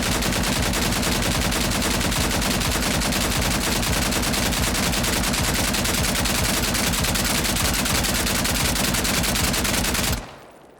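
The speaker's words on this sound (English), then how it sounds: "It's a machine gun!" A machine gun fires nonstop in the video game SCP: 5K, a dense, loud, rapid stream of shots lasting about ten seconds before cutting off abruptly.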